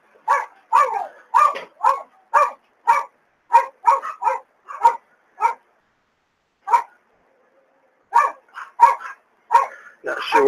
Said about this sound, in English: give me a second to go see what these dogs are barking about.